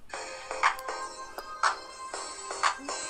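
A phone ringtone plays a repeating electronic melody, a bright tone pattern returning about once per second, moderately quiet, with no talk over it.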